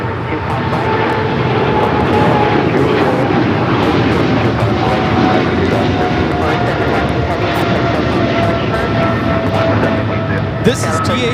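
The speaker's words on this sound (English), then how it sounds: "This is DHL, operated by Polar Air Cargo 718, taking off to Cincinnati on the 777 freighter." A DHL Boeing 777 freighter run by Polar Air Cargo takes off from LAX bound for Cincinnati, a loud, steady jet roar that holds throughout while people chat nearby.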